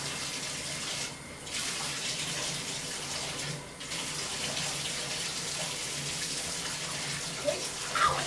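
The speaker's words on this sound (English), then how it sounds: "So let me turn the water on" Water runs steadily from a bathtub tap, a continuous close hiss and splash filling the tub, with brief surges and faint handling noises near the end.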